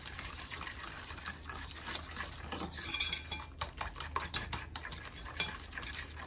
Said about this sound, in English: now, I'm going to mix the sweetener up in there